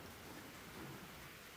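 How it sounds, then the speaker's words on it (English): Light rain patters faintly on a roof, the first drops after a month of dry, smoky weather, a soft continuous hiss with no voices. "that slight sound you hear on the roof is rain."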